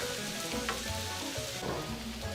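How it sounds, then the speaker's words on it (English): Onions cooking in a pan give off a steady, close sizzle and crackle with a few soft stirring scrapes, a home kitchen with an oven preheating nearby. "Just been cooking onions for a little bit"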